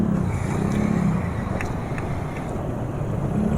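Motorcycle engine running at a steady, even drone during a constant-speed ride, sounding close and continuous throughout.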